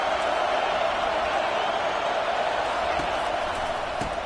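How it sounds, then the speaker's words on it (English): A roaring stadium crowd at a college football game, a dense, steady wall of noise that holds loud and unbroken throughout, as if shaking the girders of the venue. "Listen to this crowd just shaking the girders of this place"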